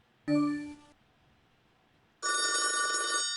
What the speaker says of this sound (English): That's just a fucking phone ringing.